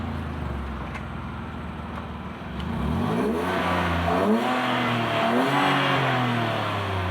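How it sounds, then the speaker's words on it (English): A 2013 Maruti Celerio automatic with a BMC air filter and modified air intake revs hard in first gear toward redline, its engine note climbing steadily in pitch from a lower drone, loud and close, with no talking. "That's how the car sounds when you are actually throttling it up to the red line on the first gear."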